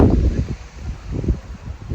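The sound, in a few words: wind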